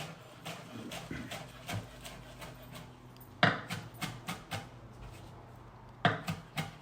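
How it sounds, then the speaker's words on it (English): A knife chops a bunch of fresh basil on a cutting board, a run of crisp, evenly spaced knocks with short pauses between groups, close and fairly quiet. "we'll just chop all this down"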